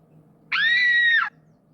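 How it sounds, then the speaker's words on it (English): A blood-curdling scream from a character in the Episode: Choose Your Story game, Foul Play chapter. It is one loud, sustained, piercing cry lasting under a second over a faint low background hum. "the painful sound of Kai's blood-curdling screams echoed down the hall"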